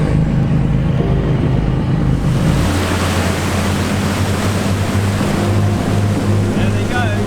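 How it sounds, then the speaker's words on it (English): A tracked-launch lifeboat motors out to sea, its engine droning loud and close over rushing waves and spray, a continuous roar with no voices. "They're just launching the lifeboat, very much like the one we saw in Scarborough with the big caterpillar tracks."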